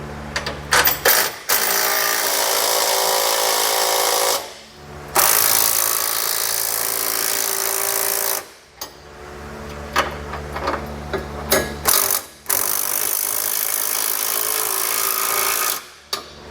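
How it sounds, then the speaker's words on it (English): Socket wrench tightening trailer hitch bolts on a 2015 Nissan Xterra with a 19mm socket, a loud steady ratcheting whir broken by short pauses, close by and without talk. "we're going to begin tightening it down. We're going to start with these bolts up here using a 19mm socket"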